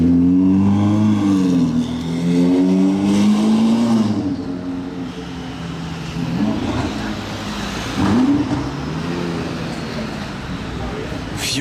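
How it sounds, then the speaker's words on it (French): A Ferrari Daytona SP3 with a new free-flowing exhaust line revs repeatedly, loud close engine surges rising and falling in pitch, while someone talks over the blips. "Et une ligne d'échappement, hein, écoutez."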